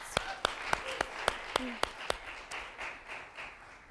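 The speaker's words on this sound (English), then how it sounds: "Let's give them applause." A small studio audience on a live program gives a round of applause, starting with a few loud, evenly spaced close claps before thinning into softer scattered clapping over about four seconds.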